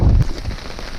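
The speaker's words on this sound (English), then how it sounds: "it's just raining now" Rain pours onto campsite tarps during a thunderstorm in a backcountry camp in Ouachita National Forest, a close, dense patter with a heavier rumbling burst at the start.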